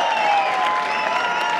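Audience clapping at a product launch event, a steady dense wash of many hands applauding together, fairly loud and continuous with a faint murmur of the crowd beneath.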